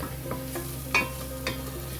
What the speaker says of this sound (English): You have to make it brown so that the garlic and ginger diffuses to the oil